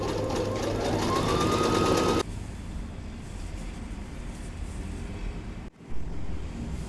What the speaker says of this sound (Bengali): এই যে একটা প্যান্ট সেলাই করে ফেলছি সুন্দর করে, ডাবল সেলাই করছি